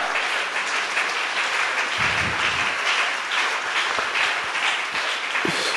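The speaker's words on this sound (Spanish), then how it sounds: "Si ese aplauso es para el Señor" A church congregation applauds during a sermon, giving steady, moderately loud clapping that fills the space evenly throughout, with no voices standing out.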